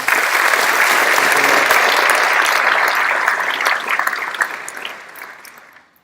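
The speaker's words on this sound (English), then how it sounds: "give one more round of applause for all the students" An audience gives dense, sustained applause at a sheriff's office academy graduation ceremony, loud and even for several seconds before thinning into scattered claps and fading out.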